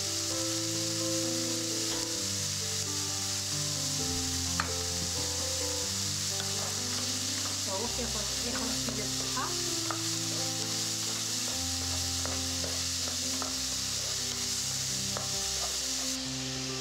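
Onion sizzles in table oil in a pan along with the added vegetables, a steady loud frying hiss mixed with stirring and scraping of a utensil against the pan, continuous and close.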